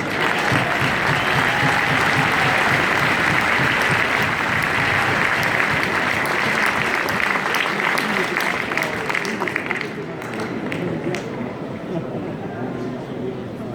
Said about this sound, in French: Merci pour les applaudissements, ça fait toujours plaisir.